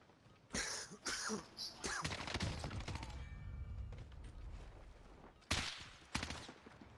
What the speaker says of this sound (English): that was me shooting at you.